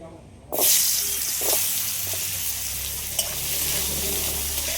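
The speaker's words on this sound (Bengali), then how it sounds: "এবার আমি এই দানাগুলো একটু ভেজে নেব" Jackfruit seeds coated in salt and turmeric drop into hot oil with an abrupt burst of sizzling that settles into a steady, moderately loud frying hiss.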